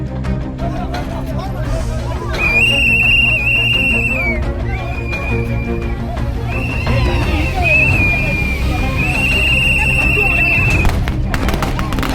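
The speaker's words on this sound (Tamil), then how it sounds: "அந்த வாகனத்துக்கு வெடி போட்டு விசில் ஊதுறாங்க." Shrill, sustained whistle blasts sound repeatedly around a political campaign vehicle over a loud, busy crowd din with firecracker-like bangs and general street noise.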